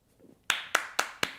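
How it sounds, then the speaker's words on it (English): Four crisp hand claps in an even, unhurried rhythm, close and fairly loud, each ringing out briefly before the next, after a moment of near silence. "no words, just claps"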